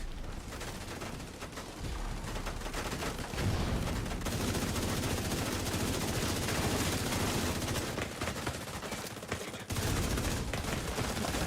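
Heavy sustained gunfire from a mob of enemies in The Division 2, a dense continuous barrage of shots that stays loud and close for the whole stretch with no talking.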